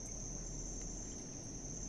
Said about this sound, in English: comforted by the chirp of crickets